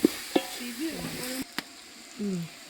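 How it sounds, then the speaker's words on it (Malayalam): Crushed garlic, green chili and ginger sizzle in a pan for a chicken biryani while a spoon stirs, with a few sharp scrapes and clinks over a soft frying hiss. "ഇഞ്ചി ഒക്കെ ഇട്ടതിന് ശേഷം നന്നായിട്ട് തന്നെ ഇളക്കി കൊടുക്കണം"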